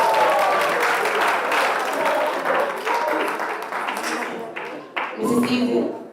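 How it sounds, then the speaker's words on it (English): Sustained applause from a room full of people at a national debating championship final, steady clapping that dips briefly near the end before swelling again. "a round of applause, please."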